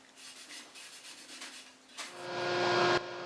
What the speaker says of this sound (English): wipe off the excess with a dry cloth